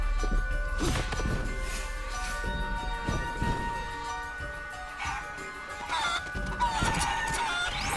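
Chickens in the Guacamelee! video game cluck and squawk repeatedly in a busy, close flurry, with scattered hits and game noise mixed in and no speech.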